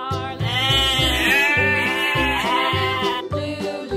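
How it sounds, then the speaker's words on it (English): A sheep gives one long, wavering bleat that carries through most of the moment, loud and close, with a rhythmic music track pulsing underneath. "Sheep."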